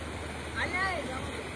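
Water rushes steadily through a canal in Gujarat during the hot summer, a continuous broadband wash heard close. A voice rises briefly over the flow.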